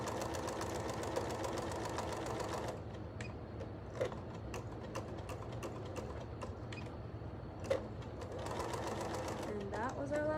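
A sewing machine stitches down small fabric corners in two steady bursts of whirring at the start and end, with a quieter stretch of clicks and taps in between.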